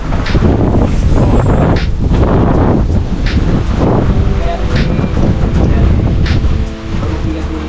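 Strong gusting wind buffets the microphone in loud, roaring waves, with rustling and a faint rumble beneath.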